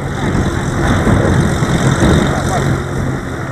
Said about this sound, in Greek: Το μικρό αεροσκάφος έχει μόλις πραγματοποιήσει πτήση πάνω από την πόλη του Ηρακλείου